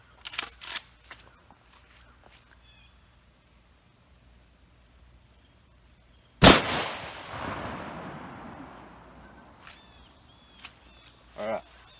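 A 12 gauge shotgun fires a single full power shell outdoors: one sharp, loud blast followed by a long fading echo, with people talking faintly before and after the shot.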